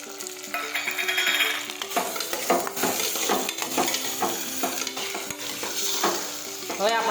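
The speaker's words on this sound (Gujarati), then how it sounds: "હવે આપણે ટમેટા સમાર્યા છે તે નાખી દઈશું." Chopped tomatoes dropped into a hot frying pan for a Gujarati cluster bean and potato curry, sizzling loudly and steadily with repeated scraping stirs and clinks of a spoon against the pan throughout.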